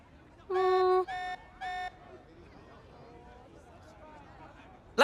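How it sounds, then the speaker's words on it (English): An alarm blares in the video game Xenoblade Chronicles 3 as three loud electronic beeps, one long and two shorter, followed by a quiet, low background hum. "This alarm's worrying."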